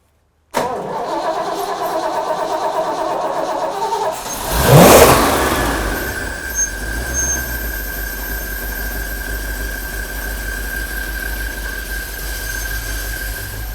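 Ford F350 ramp truck with a turbocharged V8 cranking and firing up, a loud surge as it catches, then settling into a steady, rumbling idle for several seconds.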